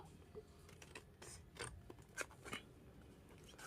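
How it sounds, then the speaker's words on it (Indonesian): Scissors snip in a quick series of short, close, crisp cuts with small pauses between them, fairly quiet and with no voices. "Biasanya kalau aku gunting ini nggak pernah sampai full ya"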